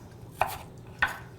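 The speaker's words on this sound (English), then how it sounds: "So I'm gonna give extra chopping here because this is a very big red onion." Two crisp knife chops through a very large red onion on a cutting board, evenly spaced and close, with no other sound around them.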